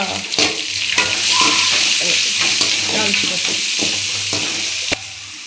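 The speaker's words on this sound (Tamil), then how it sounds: "இப்போ வெங்காயம் நல்லா வதங்கிடுச்சு" Onions sautéing in oil in a pan for a spicy brinjal curry, a steady loud sizzle with repeated stirring clinks and scrapes of a spoon throughout.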